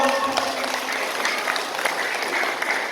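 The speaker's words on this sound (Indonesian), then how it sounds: "Tepuk tangan buat Vio." Villagers applauding at an Isra' Mi'raj religious lecture in a village hall in East Kalimantan, a dense, even patter of clapping from a crowd that holds steady for the whole stretch, with faint background voices beneath.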